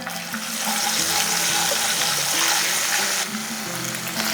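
Ginger paste frying in a hot pan with salt already added, a steady loud sizzle and hiss that continues throughout with slight stirring variations.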